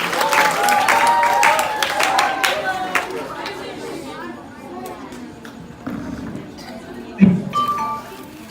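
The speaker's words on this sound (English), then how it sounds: "Let's give them a round of applause, please." An audience applauds grade 6 pupils after their Cupid and Psyche school performance, steady clapping mixed with crowd chatter and a few clinks, thinning toward the end with a louder knock near the close.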